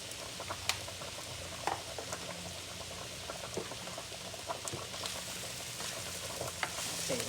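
Chicken pasta simmering and bubbling in a pan as oregano and black pepper are stirred in, a steady close sizzle and boil with soft scraping stir sounds throughout, no talking.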